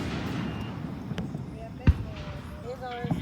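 A single sharp boom from a Fourth of July fireworks show, heard at a distance under people talking, with a few quieter pops and crackles afterward.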